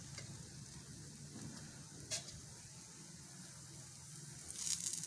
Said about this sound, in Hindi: इसको मीडियम फ्लेम पे हम पकाएंगे। पराठा हमारा तैयार हो रहा।